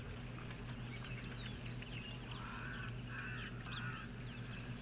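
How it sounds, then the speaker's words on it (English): Several Cape crows caw in the distance, a few harsh calls in a short cluster, faint over a steady outdoor hum of insects and wind. "that sound of those Cape crows as well."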